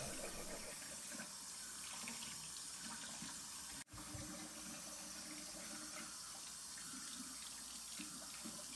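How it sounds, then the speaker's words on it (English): Hot tap water runs steadily into a kitchen sink while Italian sausage is rinsed of excess dirt, a continuous close hiss with a brief break partway through. "Rinse with hot water."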